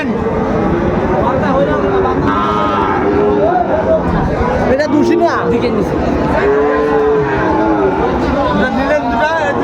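Cattle mooing amid a busy crowd at a cattle market in Comilla selling Sahiwal bulls and calves, several drawn-out calls rising over constant chatter and market noise.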